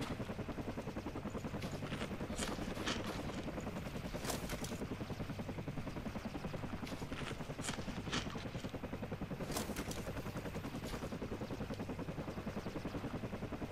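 A video game helicopter sits idling while it waits to take off, its rotor throbbing continuously and steadily, with scattered sharp bursts that may be gunfire breaking through.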